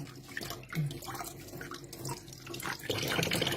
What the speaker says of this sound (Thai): เวลาล้างก็ล้างแบบเป็นใบ ๆ อย่างนี้นะพี่น้อง